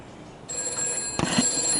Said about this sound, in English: it's ringing that landline phone there